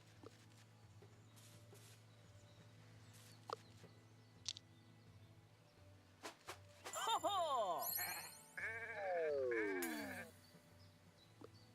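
Cartoonish sheep bleats from the video game Renowned Explorers: International Society, several wavering, descending calls in quick succession over quiet background game music, loud and close.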